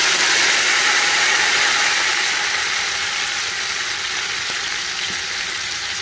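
Chopped tomatoes frying in oil after the onions have turned golden, for a beef nalli yakhni pulao: a steady, fairly loud broadband sizzle that fades slightly over time, with a couple of faint clicks of a utensil and no talking.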